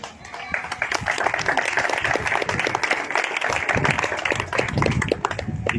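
A crowd at an outdoor political rally in Tortoreto claps steadily and fairly loudly, a dense run of hand claps lasting several seconds, with some voices underneath.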